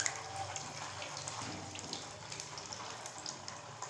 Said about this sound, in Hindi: जैसा कि हमारा घी गर्म हो चुका है, अब हम इसमें डालेंगे गुलाब जामुन। और हम इसको पकाएंगे।